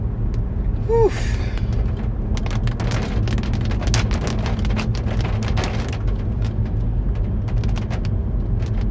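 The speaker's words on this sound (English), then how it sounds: "There's large hail." Large hail pelting a storm chaser's car during a severe storm near McConnellsburg in Fulton County, Pennsylvania, a loud, continuous roar with dense irregular sharp impacts drumming on the roof, and a brief voice near the start.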